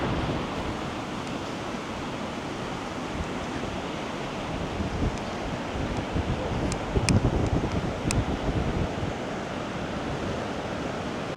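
A steady northwest wind sweeps across a sandy beach, a constant broadband roar of gusts and blowing sand with a few brief sharper rustles, close and unbroken throughout.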